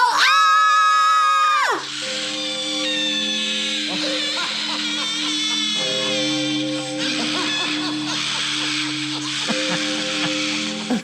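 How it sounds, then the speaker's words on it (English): A woman screams loudly for about two seconds at a haunted attraction in the Moundsville Penitentiary, her high, sustained cry ending abruptly before a noisy stretch of crowd sound and other voices. "I feel so bad for that lady screaming."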